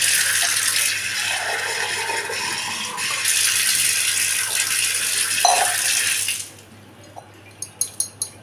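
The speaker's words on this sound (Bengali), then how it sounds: "যাতে তরকারিটা আরও ভালো করে সেদ্ধ হয়, সে কারণে আমি এখানে পরিমাণ মতো জল দিয়ে দিলাম" Water poured steadily into a pot of kakrol, potato and vegetable curry, a continuous splashing rush lasting several seconds before stopping, followed by a few small clicks.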